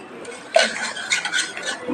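Cooked moong dal gets mashed in a pot with a spoon, giving soft repeated scraping and clinking strokes against the metal at close range after a quiet start.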